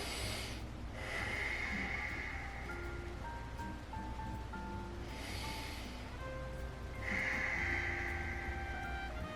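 Slow, audible breaths in and out during a seated twisting yoga-style stretch, with two or three longer hissy exhalations standing out over a steady low room hum, no talking.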